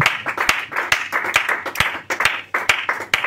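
A church congregation claps together to acclaim the Lord, a fast, uneven run of sharp, close handclaps filling the room for a few seconds.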